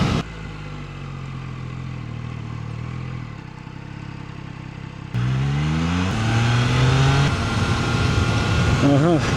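A 2022 Triumph Trident 660 motorcycle rides on a rough road in rain mode, its engine droning steadily, then rising in pitch through louder revving gear changes in the second half, with speech over it.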